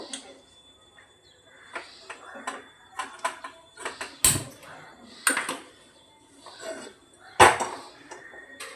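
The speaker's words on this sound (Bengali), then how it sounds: "এবার আমি কড়াইটা বসিয়ে এর মধ্যে রসুন ফোড়ন দেব" A metal wok clanks onto a home kitchen stove before garlic is fried, with scattered sharp knocks and clinks of cookware, two louder bangs standing out, in an otherwise quiet room.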